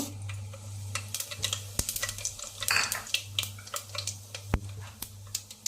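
Fenugreek, mustard and cumin seeds dropped into heated oil for a tomato chutney, bringing scattered crackles and pops over a low hum, with a few sharp metallic clinks of a spoon on the pan.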